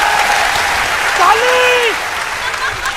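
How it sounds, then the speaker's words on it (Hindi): Audience clapping at a Hindi comedy poetry gathering, a dense burst of applause with a voice briefly rising over it near the middle. "जरा ताली बजाइए, ताली बजाइए"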